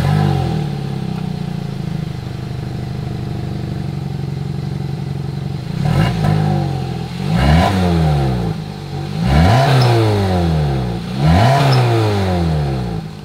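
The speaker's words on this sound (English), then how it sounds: "As always, here is that exhaust clip." A 2023 Hyundai Tucson N Line exhaust idles steadily, then is revved in four sharp blips that rise and fall, loud and close with no talking.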